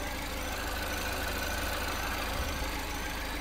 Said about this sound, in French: Sur les moteurs sportifs comme ça, on respecte les temps de chauffe avant d'envoyer la cavalerie